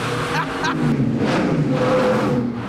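A Pagani Zonda supercar drives through a tunnel, its engine roaring deep and loud with echoing reverberation as it revs and someone talks over it.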